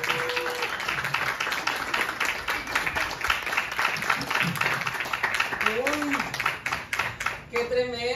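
An audience at a variety show in a small forum theater in Chilpancingo breaks into loud, sustained applause with dense clapping, while voices call out over it and a brief whistle-like sound rises near the end.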